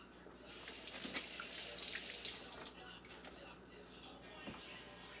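Lukewarm water runs steadily from a tap into a basin, a broad hiss that swells and then eases, with faint talk underneath.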